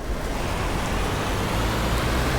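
Car engine in an Estonian-language video game, a steady broadband road rumble that holds at an even level for the whole short stretch, with no talk over it.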